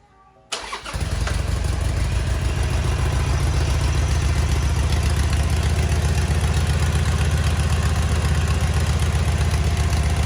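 A Harley-Davidson Sportster motorcycle engine fires up after a brief start and settles into a loud, steady, throbbing idle that runs on without pause.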